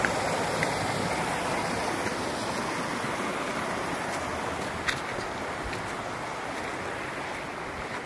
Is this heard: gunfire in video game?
no